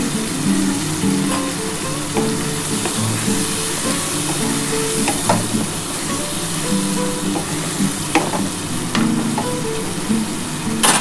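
Spice masala with tomato frying in oil, a steady sizzle with intermittent stirring scrapes of a spoon against the pan, close and continuous with no talk.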